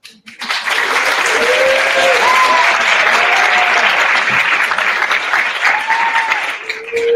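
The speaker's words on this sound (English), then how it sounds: "I want to give one more round of applause for our first panel" A conference audience at a Toronto university gives a panel a round of applause, a sustained, loud crowd clapping rising quickly and holding steady, with faint voices and brief cheers threaded through it.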